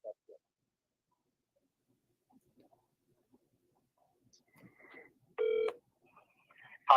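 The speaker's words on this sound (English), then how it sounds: "I'm calling him right now." A telephone is dialed to place a call, giving a short series of clear electronic keypad tones with a brief burst of beeps, quiet and isolated amid near silence.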